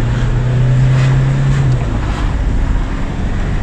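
A turbocharged car engine running on sunflower cooking oil roars steadily at full throttle, a loud, continuous drone under heavy wind rush with no talking.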